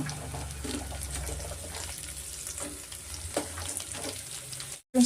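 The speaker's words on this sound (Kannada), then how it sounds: "ಸ್ವಲ್ಪ ಅದು ಎಣ್ಣೆಯಲ್ಲಿ ಸ್ವಲ್ಪ ಫ್ರೈ ಆಗಲಿ." Beans, carrots, capsicum, knol-khol and peas frying in oil for vegetable bread pulao, a steady close sizzle with scraping stir strokes and a brief clatter at the end, no voices.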